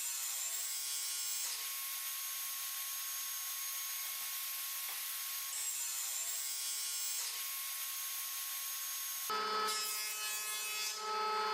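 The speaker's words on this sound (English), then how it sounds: "I lightly sanded the legs and repeated the procedure" Steady rubbing of sandpaper over wooden table legs, a continuous bright hiss broken by short pauses and shifts in stroke, close and alone.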